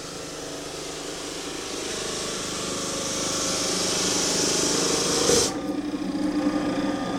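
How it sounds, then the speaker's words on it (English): Small single-head floor sanding machine working a parquet floor, a steady loud motor whine with broadband grinding that builds slightly, then shifts abruptly near the end as the load changes. "Another nice thing about these small machines is you can use that one-headed action up against the wall a lot easier to feather out of the floor."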